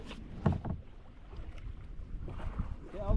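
Canoe paddled on the Nith River after a storm, with soft intermittent water splashes and paddle strokes under steady wind noise, a voice briefly heard nearby.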